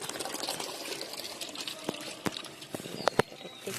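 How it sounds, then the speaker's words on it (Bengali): Water is poured out of a bucket in a short splashing trickle, with a few sharp knocks and clatters nearby and faint voices in the background. "এই বালতিতে করে করে জল দিই"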